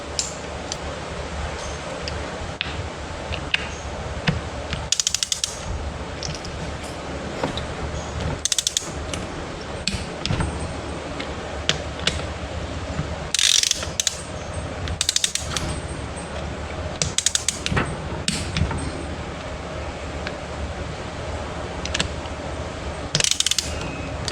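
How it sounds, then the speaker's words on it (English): A ratcheting torque wrench tightening bolts to 17 foot-pounds while assembling the 787 engine of a 1996 Sea-Doo GTX: repeated close clicking ratchet strokes in irregular bursts, with metallic handling between them. "Now we're going to torque them down to 17 foot-pounds."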